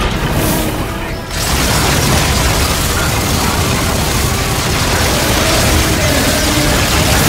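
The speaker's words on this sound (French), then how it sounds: "Ouh, grenade." A grenade blast in the single-player campaign of Call of Duty Infinite Warfare, a loud continuous booming roar of game combat that fills the scene after a brief dip, dense and sustained throughout.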